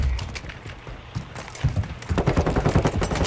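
Call of Duty gunfire comes in rapid, uneven bursts that grow louder and more clustered toward the end, punchy and close, with a busy game soundscape underneath.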